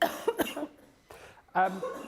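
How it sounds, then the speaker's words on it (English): A person coughs a few times in short, harsh bursts, with brief pauses between them, close and fairly quiet. "Sorry, I'm going to have to cough again."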